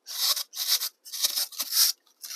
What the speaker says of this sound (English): Carving in those strata lines just like that.